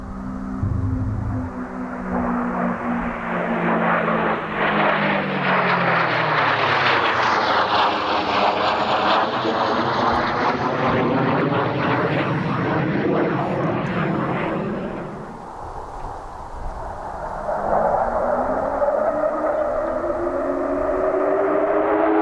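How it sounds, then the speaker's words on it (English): A Hawker Hunter jet roars past at an airshow with a loud, sweeping whine whose pitch rises and falls, its howling blue note swelling then fading as it passes. "It makes the blue note, which is the characteristic Hawker Hunter noise."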